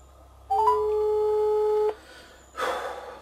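A mobile phone call tone sounds clearly and alone: a few short rising beeps lead into one long, steady electronic tone lasting over a second, followed by a brief burst of rustling noise.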